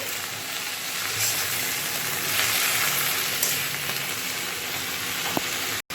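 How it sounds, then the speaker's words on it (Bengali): Fenugreek greens stir-fry in a pan with salt and turmeric, a steady close sizzle with occasional stirring scrapes running throughout and no talking. "এবার শাকের মধ্যে নুন হলুদ দিয়ে দিয়েছি, দিয়ে ভালো করে নাড়াচাড়া করে"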